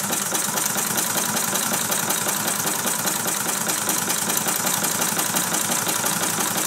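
A Mamod SP7 model steam engine drives a Meccano warehouse crane, chuffing in a fast, even mechanical rhythm with continuous close whirring and rattling.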